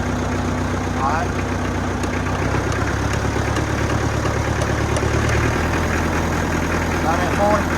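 A Fimco 60-gallon boom sprayer engine idles steadily close by, a constant low mechanical drone throughout with no real change in pace, while people talk over it.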